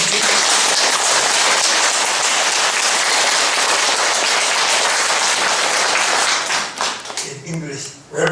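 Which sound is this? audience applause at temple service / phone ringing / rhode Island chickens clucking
audience applause at temple service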